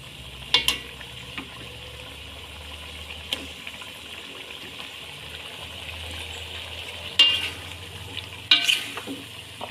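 Fish roe and tomatoes sizzle quietly in a pan as a spoon stirs them, with a few sharp scraping clinks against the pan near the start and toward the end. No one speaks.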